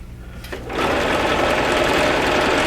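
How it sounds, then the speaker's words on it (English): A domestic sewing machine stitches a seam, starting after a quiet half second and then running steadily with a dense, even whir at close range, with no voices. "My machine always sounds so quiet while I'm sewing"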